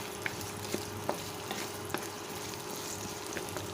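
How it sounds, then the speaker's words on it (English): Potatoes frying in a pan with onions, bay leaves and celery for beef afritada, a faint continuous sizzle with a few light taps, heard up close and without talk. "We will fry the potatoes."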